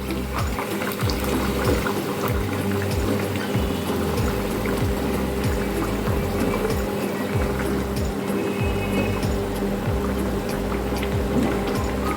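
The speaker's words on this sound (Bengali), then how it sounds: "এরপরে এর মধ্যে আমরা দিয়ে দেবো গরম জল।" Hot water is poured into a pan of chicken curry, making a continuous bubbling, gurgling pour that goes on for several seconds and stays moderately soft, with no voices.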